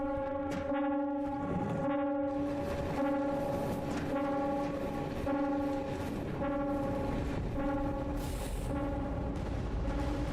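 A loud, steady alarm with a harmonic, horn-like tone blares nearly nonstop after a train explodes in a video game, with brief dips and rough bursts of noise mixed in.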